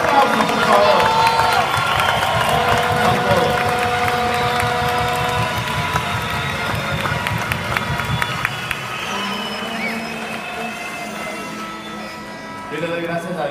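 A large audience cheers and applauds loudly, the roar of voices and clapping filling the space for over ten seconds before easing slightly toward the end.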